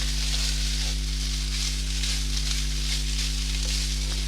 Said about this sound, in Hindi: पहले ये थोड़ा फ्राई हो जाए इसके साथ